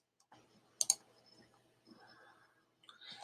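A couple of quick, faint mouse clicks in close succession, then quiet, as someone works through the AWS console.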